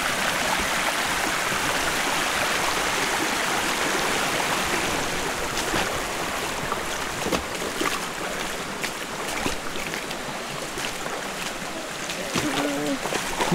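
Steady rushing water from a river stream along the Lata Berembun trail on Gunung Berembun in Jelebu, Negeri Sembilan, flowing continuously and fairly close throughout, with faint voices now and then.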